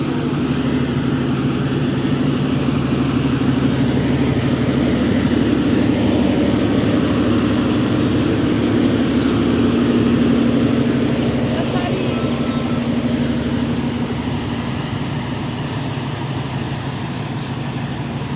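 A French-built BB 215 locomotive moves slowly through the Dire Dawa railway station yard, giving a loud, steady, continuous rumble and engine drone with no pauses.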